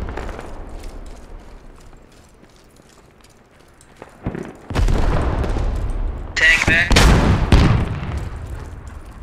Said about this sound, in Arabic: شايف قصف الهاون هذا